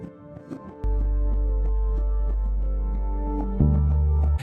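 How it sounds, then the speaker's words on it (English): Moody reversed arpeggiated synth sound built from piano tones, rising in a steady stream of notes over a deep sustained bass that enters after the first second and shifts near the end. "this is more of a ARP type of sound to give more movement."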